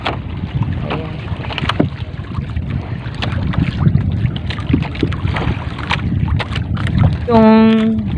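Steady northeast monsoon wind roars and buffets across the microphone at sea on a fishing trip, with water sloshing beneath and a brief tonal squeal near the end.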